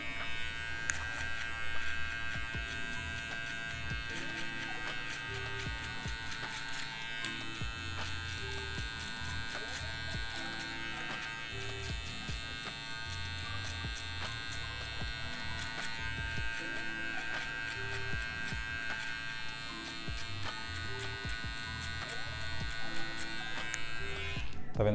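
An electric hair clipper buzzes steadily and quietly throughout while cutting a V-shaped fade, its hum continuing under faint background noise.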